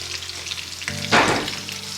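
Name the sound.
stirring blended ginger and bell pepper into frying stew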